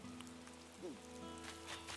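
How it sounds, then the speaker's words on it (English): Soft rain ambience in a video game, a faint, steady patter of drops on surfaces beneath sustained tonal background sound, heard alone for a couple of seconds. "I love the rain in this game."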